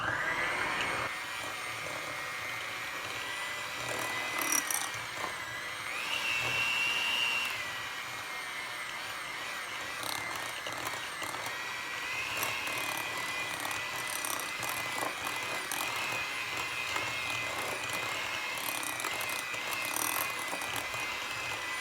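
An electric hand mixer whirs steadily while it beats peanut butter mousse in a bowl, a continuous motor drone with slight shifts in pitch and load as the beaters move.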